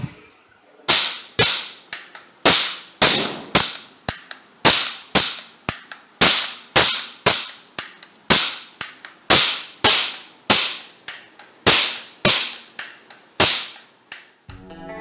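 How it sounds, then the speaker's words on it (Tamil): A toy seven-shot cap gun loaded with Diwali crackers fires a long string of sharp, loud cracks, roughly two dozen close-range pops spaced about half a second apart, each decaying quickly, with no talking. "துப்பாக்கி."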